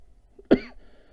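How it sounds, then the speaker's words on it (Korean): One sharp, close cough bursts out during a lecture on academic writing, followed by a moment of near silence. "아직도 기침이 좀."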